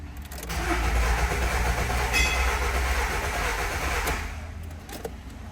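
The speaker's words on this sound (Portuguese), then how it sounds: "Vou dar a partida." Car engine with faulty fuel injectors cranking on a Volkswagen Voyage: a loud, steady starter-motor churn for about four seconds that stops without the engine catching.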